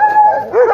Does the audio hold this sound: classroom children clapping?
no